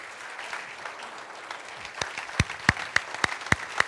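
Church congregation applause rising from a soft crowd murmur into sharper, louder claps near the end, no voices standing out.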